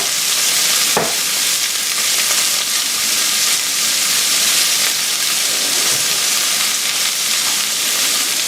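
Celery and onion frying in a pan for chicken cacciatore, a loud, close, steady hiss and crackle throughout, with a sharp clink near the start and occasional stirring bumps.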